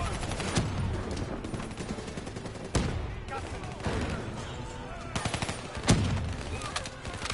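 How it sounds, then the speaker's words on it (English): Rapid gunfire rattles through a Black Ops 3 firefight, dense and continuous with occasional heavier booming hits, while a player shouts over the shooting. "Dude, I am shooting everyone, and they won't just die!"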